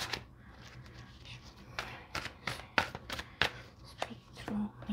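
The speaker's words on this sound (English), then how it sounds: "I'm going to just shuffle." Tarot cards being shuffled by hand, a series of soft, quick riffling and tapping bursts at an irregular pace, close and fairly quiet.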